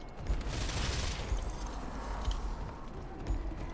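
Gunfire in the video game Ghost Recon: a dense, continuous crackle of rapid shots and distant bursts that runs steadily throughout, with no talking.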